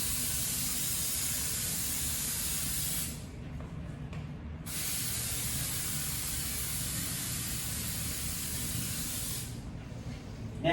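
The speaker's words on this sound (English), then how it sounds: "we're going to apply spray adhesive, spray glue" Spray adhesive hisses from an aerosol can onto a painted wall surface in long, steady bursts, close and fairly loud, with a short pause partway through before spraying resumes.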